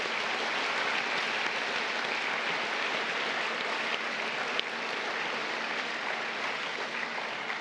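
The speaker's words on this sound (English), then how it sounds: "give Jen Burgess, our LED light artist for our 30th anniversary windows, a round of applause" Applause for LED light artist Jen Burgess at a 30th anniversary chapel windows event: a steady, even roar of many hands clapping, heard at a distance in a large room, unbroken for the whole stretch.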